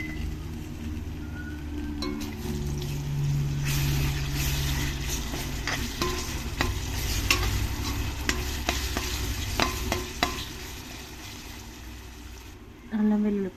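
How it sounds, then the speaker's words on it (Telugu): Liver fries with ginger garlic paste in a pan in a Rayalaseema-style recipe, giving a steady sizzle with scraping, clattering stirs throughout, while a voice speaks over the cooking. "వీటిని కొద్దిగా ఎర్రగా వేగించుకొని ఇందులోనే ఒక స్పూన్ అల్లం వెల్లుల్లి పేస్ట్"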